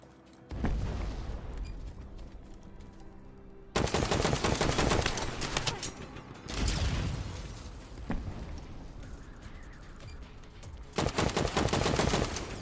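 Friendly turrets fire in a sci-fi first-person shooter game in bursts of rapid automatic gunfire, loud and close, with short pauses between volleys and a dull explosive thump near the start.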